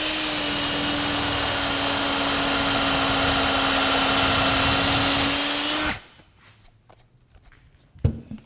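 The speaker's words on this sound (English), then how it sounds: "now I'll just drill to where the stop collar will make contact with the jig" A power drill runs steadily and loudly for about six seconds, boring into a workpiece until a stop collar meets the jig while building a drop-front desk, then cuts off, followed by quiet handling and a single knock.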